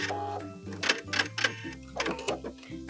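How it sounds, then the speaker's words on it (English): A sewing machine back-stitching a seam on a leather or vinyl wallet, with a steady motor hum and several short bursts of stitching close by, stopping and starting again. "I'm actually going to go all the way down and back stitch again."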